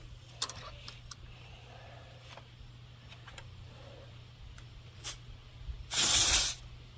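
Air hisses from the tire valve while the tire is inflated on a Wolfe Ridge Pro 28C log splitter, heard as one short, loud, close burst after a quiet stretch with a steady low hum.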